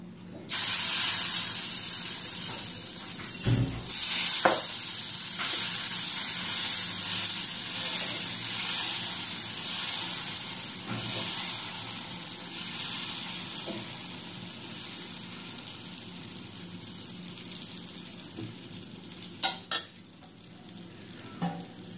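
Pesarattu dosa batter sizzles on a pan over a medium flame, a steady close frying hiss broken by occasional soft scrapes and clicks, with no talking.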